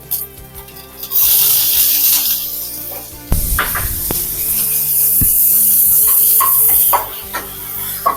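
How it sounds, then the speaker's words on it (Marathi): Onion hitting hot oil in an iron kadai that already holds crackling green chillies, for a Marathi dried-fish sukat fry, bursting into a loud continuous sizzle with stirring clatter and scraping throughout. "कांदा चांगला ब्राऊन होईपर्यंत भाजून घ्यायचा"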